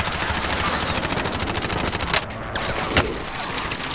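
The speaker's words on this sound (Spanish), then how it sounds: "¡Nos disparan!" Rapid automatic gunfire in Call of Duty: Modern Warfare, dense continuous bursts with a couple of sharper shots cutting through, loud and close with no pause.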